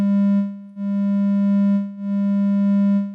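Steady synthesizer triangle-wave tone generated with Tone.js, a soft, rounded low note with faint overtones, played as three sustained notes with slight dips between them, loud and alone with no talking.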